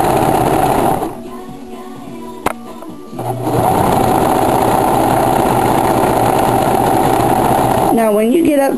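A sewing machine stitches fabric for a pet pocket hammock, running in a loud steady whir, pausing briefly near the start, then resuming; a voice speaks over it.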